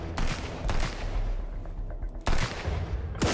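Gunfire in the survival video game Sunkenland: several loud, booming shots in quick bursts with lingering rumble between them, close and dominant.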